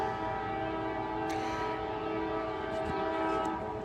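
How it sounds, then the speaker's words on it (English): A loud train running through Dalton, Georgia, a continuous heavy rumble and rail roar close by, with a horn-like tonal blare layered over it and nobody speaking. "I got a loud train coming up."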